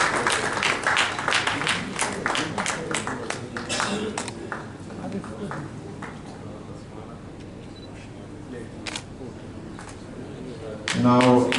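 Audience applause at an SMEDA–JICA auto parts manufacturing support ceremony, a burst of clapping at the start that thins into scattered claps and fades, then a brief loud rustle near the end.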